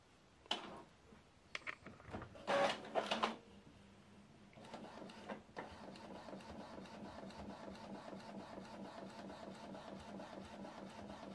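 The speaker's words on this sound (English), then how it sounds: "Select print, start printing." Epson EcoTank ET-4850 inkjet printer printing a photo: a few soft clicks and a brief mechanical whir, then a steady, quiet rhythmic chatter of the print head moving back and forth, with no talk.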